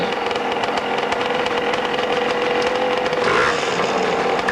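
An air-cooled Suzuki motorcycle engine at an AMA hillclimb in Monson, Massachusetts drones steadily at a distance, with a continuous mid-pitched hum under broad outdoor crowd and wind noise.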